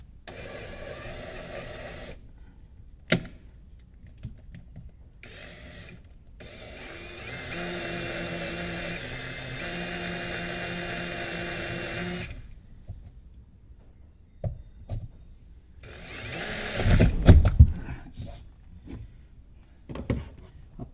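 A drill cuts a hole for a CanAm Defender grab handle in several separate bursts of whirring and grinding. The longest run lasts a few seconds, and a short, louder burst near the end sounds like the bit breaking through.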